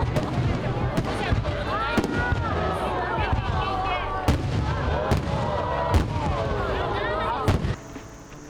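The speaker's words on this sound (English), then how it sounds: "the fireworks burst into the night sky" Fireworks bursting in the night sky over a festival near Niseko, Hokkaido, Japan, with sharp booming explosions roughly every second amid crackling, whistling trails and a constant crowd murmur, ending in quieter background noise.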